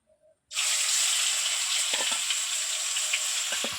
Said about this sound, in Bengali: এবার তেল গরম হয়ে গেছে, মাংসটা কড়াইয়ের মধ্যে ছেড়ে দেবো।